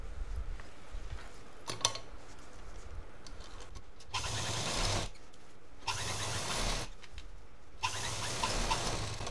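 A sewing machine stitches a fabric shopping bag in several separate bursts of whirring motor noise, each a second or so long, with quiet pauses between them.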